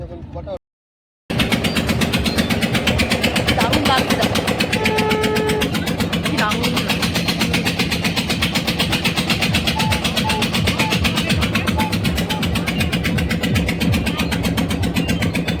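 A boat's engine starts after a brief silence, then runs with a loud, steady, rapid mechanical throb on the water while voices talk faintly underneath.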